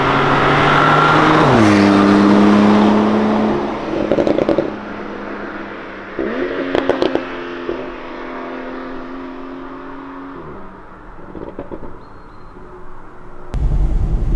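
Porsche 991.2 Targa 4 GTS with a turbocharged engine and PDK gearbox, heard from inside while driving: a loud engine drone rises and drops through several gear changes, then settles into a steadier cruise hum.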